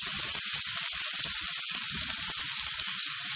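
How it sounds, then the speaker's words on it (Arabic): Onion sautéing in oil, a close, continuous bright sizzle and crackle with faint stirring, no voices. "خليها تتشوح معايا كويس"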